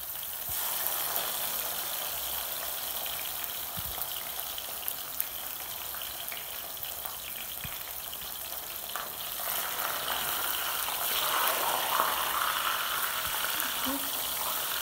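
Dried tilapia frying in a pan, a steady hiss and crackle that swells toward the end, with scattered clinks and handling noises and a few soft background sounds.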